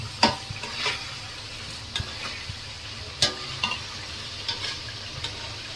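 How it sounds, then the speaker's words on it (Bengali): Rohu fish pieces being turned over while they fry in oil in a pan: a steady sizzle with sharp spatula clinks and scrapes at irregular moments, close up, with no talk. "হালকা একটু ভেজে ভাজা ভাজা হয়ে গেলে তারপর উল্টাতে হবে। তো মাছগুলো উল্টায় নিব।"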